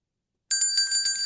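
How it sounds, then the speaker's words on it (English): A bright electronic bell chimes for a livestream donation alert, starting abruptly after a beat of silence and ringing with several quick repeated strikes, loud and close. "there's the bell"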